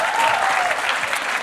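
Short burst of audience applause at a live mentalist show, dense steady clapping filling the room.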